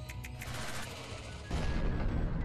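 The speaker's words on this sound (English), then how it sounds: "Oh, that's an explosion." A heavy explosion booms in the video game Hyperdimension Neptunia Re;Birth2 as a sudden low blast that cuts into ongoing rapid gunfire-like bursts and then holds as a loud, rumbling roar.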